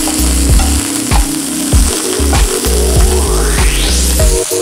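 Chopped carrot stir-fried on high heat in a pan for white sauce pasta, a loud, close sizzle with rhythmic spatula scrapes and clanks against the metal, with no voices.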